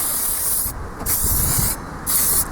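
Cleaner sprayed onto a motorcycle's gauges, controls and bodywork in three long, steady hissing bursts, close and loud, separated by short pauses.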